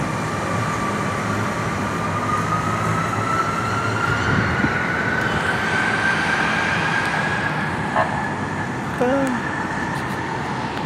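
An MRT train in Manila passes by, a loud rolling rumble with a rising whine that builds over several seconds, with brief voices and street noise mixed in.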